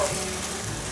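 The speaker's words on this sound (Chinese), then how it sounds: "炒至杏鲍菇有微焦了，现在放入红萝卜，" King oyster mushrooms and carrots stir-fried in a hot pan for a vegan home-style dish give off a steady, close sizzle and hiss that continues without pause and without any voices.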